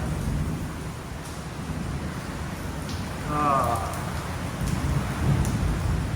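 Heavy rain pours steadily during a summer evening in Puerto Vallarta, a loud continuous hiss with a brief faint voice in the middle.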